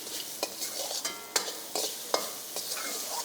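Mushrooms and green peas sautéing in oil for a mushroom masala, a soft steady sizzle broken by repeated spatula scrapes and taps against the pan, close and fairly quiet, without speech.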